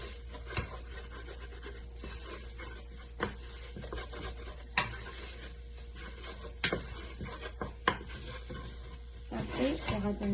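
Flour and butter with fresh onion are mixed in a pot, producing soft scraping and rubbing strokes with occasional sharper utensil knocks against the metal, fairly quiet and close over a low steady hum.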